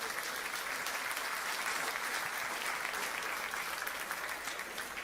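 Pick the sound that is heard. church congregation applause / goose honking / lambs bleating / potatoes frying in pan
church congregation applause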